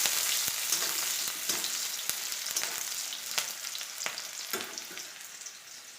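Onions frying in oil in a pan, giving a soft, steady sizzle. Distinct utensil clicks and scrapes recur every half second or so as they are stirred, with no voices.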